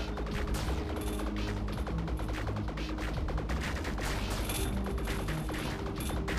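Enemy gunfire rattles in the video game Viricide, a dense, continuous barrage of rapid shots and impacts layered over the game's busy soundtrack.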